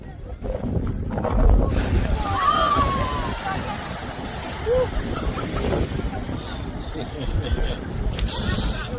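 A steady roar of rushing, splashing water from a geyser erupting in Iceland's Golden Circle, with wind buffeting the microphone and a few faint voices in the distance.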